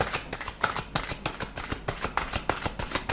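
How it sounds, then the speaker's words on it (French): A deck of tarot cards being shuffled close by, loud rhythmic riffles and papery slaps repeating steadily, with no voice over them. "Et puis, on va prendre une carte du tarot."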